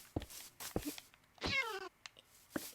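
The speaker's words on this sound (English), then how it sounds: "I hit a cat." A cat meows once after being struck in the Minecraft video game, a clear falling cry rising above a few short sharp game clicks and thumps.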